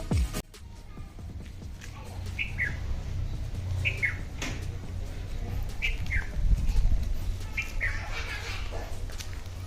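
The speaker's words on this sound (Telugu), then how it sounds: "ఈ చెట్లల్లో బర్డ్ అరుస్తుంటే చాలా బాగా అనిపిస్తుంది." Several birds call from trees in a villa garden, brief bright chirps repeating every second or two over a steady outdoor hum, moderately close and clear.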